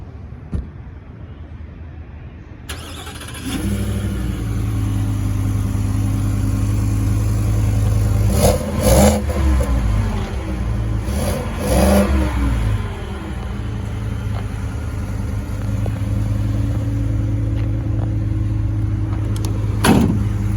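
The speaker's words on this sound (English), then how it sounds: "We're about to give this thing a cold start" A 2023 Ford F-150 Lariat 4x4 with a 5.0 V8 fires up from cold after a quiet pause, settling into a loud, steady high idle with a couple of sharp revs in the middle and a faint click near the end.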